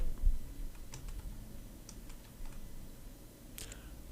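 Computer keyboard keys pressed a few times at close range while entering data into a school database system's navigation form, with scattered soft clicks and an enter key press in a quiet room.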